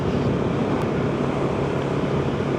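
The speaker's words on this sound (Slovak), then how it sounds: "zrovna dneska celkom fúka vietor" Loud, steady wind roar buffets the rider of a KTM 690 Enduro motorcycle cruising at about 100 km/h on a gusty day, a continuous dense rushing close to the microphone.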